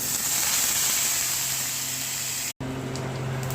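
Curry leaves dropped into hot mustard oil already spitting with cumin and mustard seeds, a steady close hissing sizzle that runs on, broken by one very brief silent gap.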